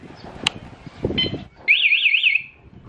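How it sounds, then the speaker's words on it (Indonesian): After a few clicks and a short rattle, a motorcycle anti-theft alarm chirps a rapid warbling tone for under a second, close and clear. "alarm berbunyi dan motor tidak bisa dinyalakan"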